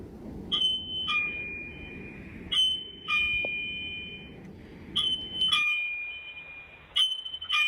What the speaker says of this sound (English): the doorbell in my kids' room upstairs is going off